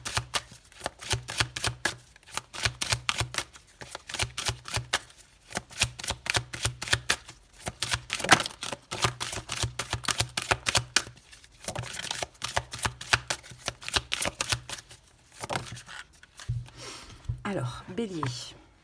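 Tarot cards shuffled briskly by hand, a dense, close riffling patter running steadily, with card snaps and slides as cards are drawn and a low voice speaking underneath at times.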